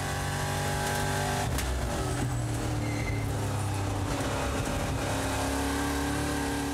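Onboard a NASCAR Euro Series race car, its 5.7 litre 400 bhp V8 engine roars loud and steady throughout, with close, sustained engine drone and shifting pitch as the car drives in a race in Croatia.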